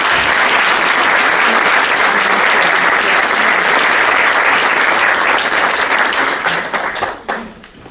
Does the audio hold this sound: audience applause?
yes